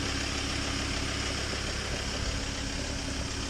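Engine of a Ford Ranger idling steadily while stuck in filthy mud with its back wheels sunk to the axle, a continuous low rumble held at an even level throughout.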